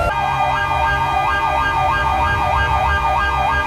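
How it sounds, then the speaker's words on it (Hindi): A police vehicle siren wails loud and close, its rising and falling tone cycling steadily over a low engine rumble, with no voices. "Siren on."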